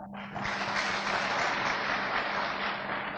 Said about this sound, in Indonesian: mohon beri aplaus buat Bapak David Wikarta